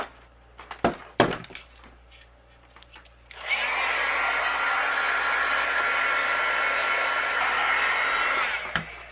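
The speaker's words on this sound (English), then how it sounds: "I'm gonna use my heat gun and we'll melt it." A heat gun blows steadily for about five seconds, melting embossing powder on a white card panel, a loud even whoosh after a few short knocks and handling sounds, then switching off abruptly.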